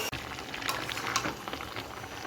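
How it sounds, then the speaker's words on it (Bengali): Chicken is being sautéed in a pan, giving a close, bright sizzle and crackle with a few stirring scrapes. There is no talk. "চিকেন কষানো চলছে"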